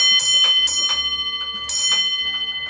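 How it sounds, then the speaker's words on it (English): A railway signal box block bell rings three sharp strokes, pauses, then strikes once more, each bright metallic ring decaying clearly in a quiet room. "then we'll be given a type of bell signal"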